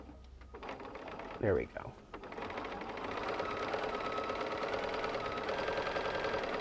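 A home sewing machine with a quarter-inch foot top-stitches a fabric Christmas stocking, running in a fast, steady whir after a short pause and a clunk, with a brief spoken remark near the start.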